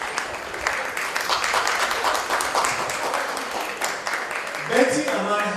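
An audience applauds Betty, the mother of a man named Kevin, with sustained crowd clapping throughout and a voice breaking in near the end.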